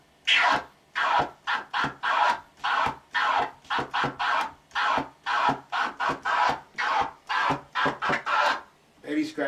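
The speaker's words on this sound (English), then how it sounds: "Baby scratch, if I did it in that same motion" Repeated baby scratches on a DJ turntable record, the vinyl pushed back and forth in a steady rhythm of about two dozen short, loud, raspy strokes with brief gaps between them.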